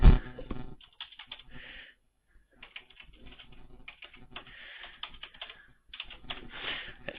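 Fingers type a new password on a computer keyboard in quick, close bursts of clicking keystrokes, broken by short pauses with a few isolated taps.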